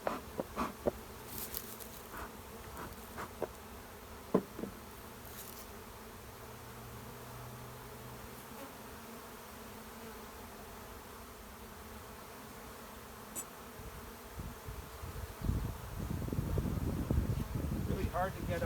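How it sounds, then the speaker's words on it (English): Bees buzz in a soft, continuous drone close by a hive opened for spring, with occasional handling knocks and rustling growing louder near the end. "hard to get a figure in edgewise because there are so many bees"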